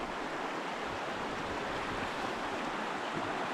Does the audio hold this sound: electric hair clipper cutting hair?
no